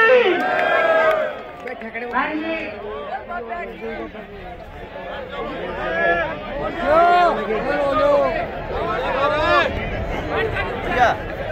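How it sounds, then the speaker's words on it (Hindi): Crowd at a bhandara gathering with a well-known politician cheering and chattering in a loud, shifting babble, with voices shouting over the hubbub and applause mixed in beneath the noise. "अरे तालियों में कसर मत छोड़ो, जोरदार तालियां बजाओ"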